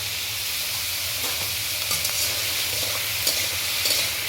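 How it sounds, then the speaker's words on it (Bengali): Vegetables sizzle and fry in a hot pan while being stirred, a steady bright hiss with scattered scraping clicks from the stirring, close and continuous with no voices. "এবার আমরা ভালো করে একটু সবজিগুলোকে ভেজে নেব।"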